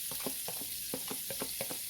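Onions sizzle in a little oil in a hot skillet, a steady bright frying hiss with soft tapping stirs now and then, close and alone.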